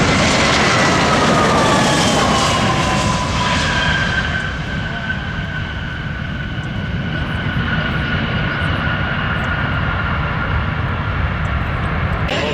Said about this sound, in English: United Airlines 434. This Airbus A320 is inbound from Kansas City